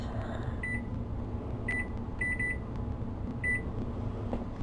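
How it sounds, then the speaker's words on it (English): Oven timer being set to 45 minutes for blueberry cinnamon pecan muffins, giving short, sharp electronic beeps, single and in quick clusters of two or three, over a steady background hum. "I'm setting the timer for 45 minutes."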